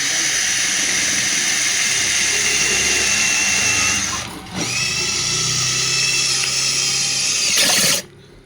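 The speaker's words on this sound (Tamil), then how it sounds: "அடுத்தது நான் ஸ்டீலில் ஏற்றி காட்டுறேன் பாருங்கள்." A cordless i bell battery drill drives a screw into steel, giving a loud, steady whir that runs for about eight seconds, with one brief dip in the middle, before cutting off abruptly.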